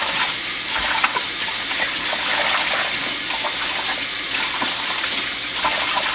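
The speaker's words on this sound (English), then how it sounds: "now we're gonna put some cold water" Cold tap water runs steadily over freshly cooked octopus in a kitchen, a broad continuous splashing hiss with small irregular spatters, fairly close and loud throughout with no talking.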